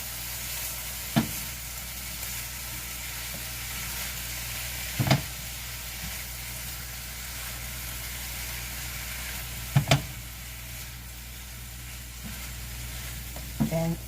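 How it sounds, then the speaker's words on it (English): Zucchini and squash stirred together in a hot pan give a steady low sizzle, with a sharp spoon knock against the pan every four to five seconds. No one speaks. "So now we just want to start stirring everything together."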